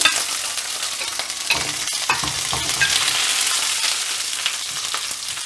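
Garlic and brinjal fry in hot oil for an oily kathirikai kuzhambu, a loud, busy sizzle broken by repeated scraping stirs, with no talking.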